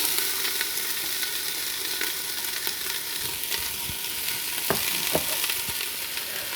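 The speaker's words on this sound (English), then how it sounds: "I've actually heated some olive oil in here and I'm just going to add in my onions." Three small chopped onions sizzle in heated olive oil in a pan, giving a steady bright frying hiss with scattered crackles and a few stirring scrapes, close and alone without talk.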